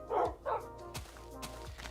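Dogs in the Minecraft video game bark twice in quick succession, followed by softer clicks and game sounds, fairly close and moderate in level.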